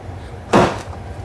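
Door handle lever on a Subaru BRZ / Toyota GT86 popping open during handle removal, a single short, fairly loud mechanical clunk from close by.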